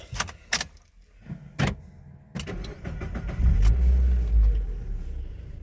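A Mazda MX car starts up: a few clicks and knocks come first, then the engine cranks and catches into a loud, close, steady low idle rumble.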